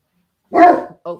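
A dog gives one loud, close bark followed by a shorter second bark, set against an otherwise silent background.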